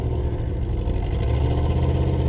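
A 1960 Cadillac's engine idles with a loud, steady low rumble close by, swelling slightly as it is revved.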